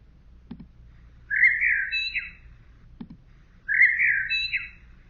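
Blackbird song heard twice in the open, each a clear warbling phrase of about a second, nearby and distinct over a low steady background hum, with a soft knock just before each phrase.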